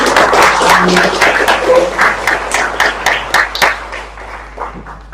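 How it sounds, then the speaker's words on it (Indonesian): Seminar audience at an entrepreneurship expo claps for several seconds, a steady patter of many hands that thins toward the end, with a voice murmuring underneath. "Oke, boleh minta tepuk tangannya nggak"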